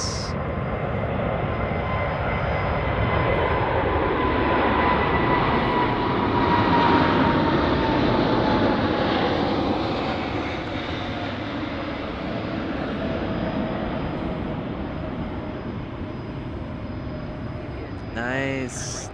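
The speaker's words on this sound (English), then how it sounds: "UPS taking off on runway 15 here in front of the LA Flights cameras." A UPS cargo plane takes off from runway 15 at Anchorage airport, its jet engines roaring as a loud, steady broadband rumble that swells and slowly eases while people talk over it.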